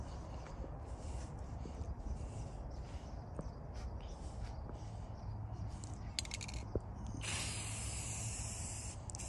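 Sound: spraying clear coat paint on a bass box

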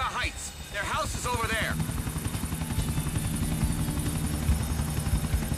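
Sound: helicopter in video game GTA IV The Ballad of Gay Tony

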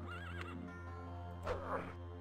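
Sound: horse neighing in the video game The Elder Scrolls Daggerfall

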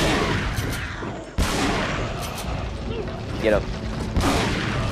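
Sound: shotgun firing in the video game Resident Evil 4

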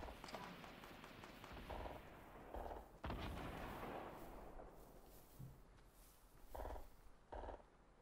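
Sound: gunfire in a video game

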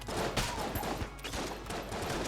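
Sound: gunfire in the video game Enter the Gungeon

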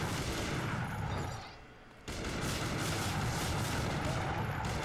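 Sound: gunfire shooting at a helicopter in Gungrave Overdose video game

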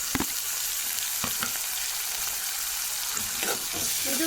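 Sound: tomatoes frying in oil in a clay pot

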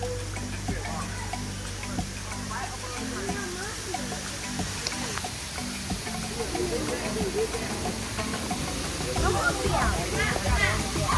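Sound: waterfall

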